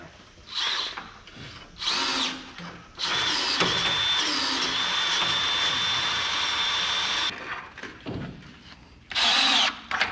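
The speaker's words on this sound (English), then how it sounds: "I still got to ream out the row unit." A power drill reams out a planter row unit in short whirring bursts, followed by one long sustained run and then more brief spurts at close range.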